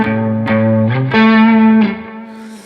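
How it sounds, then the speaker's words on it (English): Electric guitar with effects plays a run of sustained notes over a held chord, the notes stepping through arpeggio and scale shapes, bright and ringing with a slow fade at the end. "I can do any number of, arpeggios, mixing in scalar lines with that."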